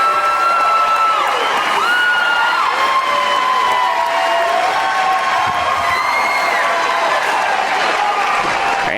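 A large crowd cheers and shouts continuously, with excited whoops and high voices rising over a steady roar.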